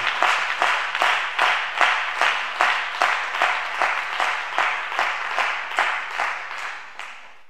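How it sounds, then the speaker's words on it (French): A church congregation applauds loudly, dense clapping pulsing in rhythmic waves for several seconds before tapering off at the end, with no speech over it. "Si quelqu'un peut acclamer très fort pour son père, gloire à Dieu"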